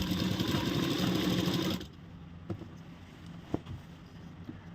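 A sewing machine stitches salwar fabric, its dense, steady motor whir running loud and close for nearly two seconds before stopping abruptly, leaving a quiet room with a few faint clicks and taps.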